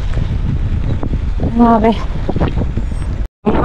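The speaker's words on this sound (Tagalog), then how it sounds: "Lakas talaga ng hangin, hindi na kaya lumagpas ng 15." Strong wind roars and buffets the microphone during a 120 km gravel bike race, a steady broadband rush with a brief spoken exclamation, ending in a sudden short dropout.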